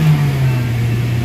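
A 2017 Toyota Altis with throttle delay and low engine power runs with a steady mid-pitched engine drone, held briefly and fairly loud, with no talk.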